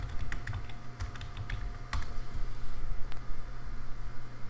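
Rapid keystrokes on a computer keyboard as an ipconfig command is typed while configuring a SonicWALL DHCP server, the taps close and crisp over a steady low background hum.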